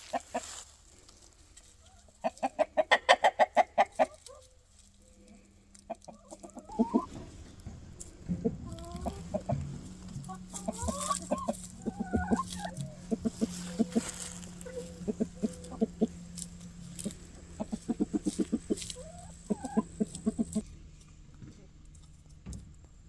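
Chickens cluck in a barn, a flock of hens giving scattered bursts of clucks and calls, near and far, over a steady low hum, with a voice talking briefly among them.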